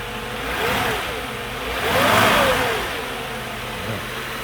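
A Mercedes 500SL R129 with the M119 V8 runs steadily after a cold start, a smooth close engine note that swells in two gentle revs before settling back.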